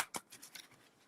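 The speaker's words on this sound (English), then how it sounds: "I'll do another final shuffle." A deck of playing cards being shuffled by hand gives a quick burst of crisp riffling and snapping, close and fairly quiet, with no one talking.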